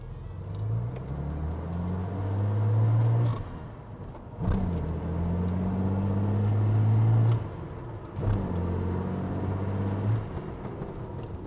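A restored 53-year-old classic Japanese car on the road, its engine droning and rising in pitch through gear changes with brief dips between shifts, heard from inside the cabin.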